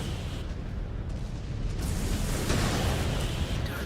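Heavy rumbling blasts from missile explosions in the mech combat game MechWarrior 5: Clans, a dense continuous roar that swells louder toward the end with no gaps.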